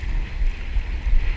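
Strong, steady monsoon wind buffets the microphone at the seaside on a cold day, a loud continuous low rumble and roar with no voices.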